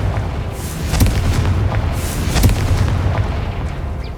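Confringo fire spell explosions in Hogwarts Legacy, a series of sharp booming bursts about a second apart over a loud, continuous rumbling background.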